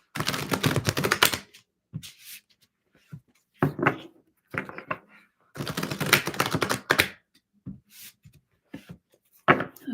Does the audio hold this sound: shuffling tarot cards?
yes